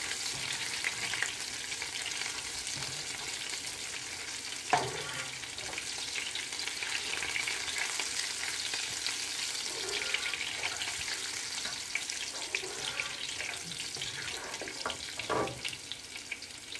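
Garlic sizzles in hot oil in a pan while being stirred until brown for aloo phali, a continuous crackling fry with occasional scraping knocks of the spoon against the pan.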